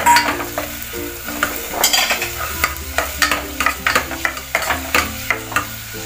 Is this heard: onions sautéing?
yes